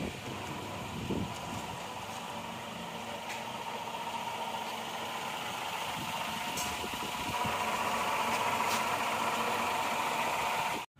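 Suzuki Escudo petrol engine idling, a steady even hum held throughout with faint wind noise, no talk.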